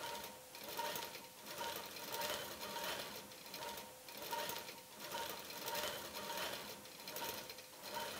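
A sewing machine stitches a quilt in a steady, close, rhythmic whir, its needle pulsing in regular bursts roughly every half second with no one talking.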